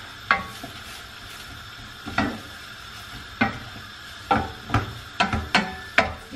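Stirring a bechamel sauce of leek, flour and milk in a pan, with a series of distinct scraping strokes and light clinks at an uneven rhythm, close and fairly loud, with no talking.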